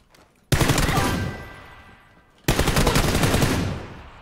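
Two loud, sustained bursts of rapid automatic gunfire from a PUBG firefight, each opening sharply and trailing off over about two seconds with a short pause between them.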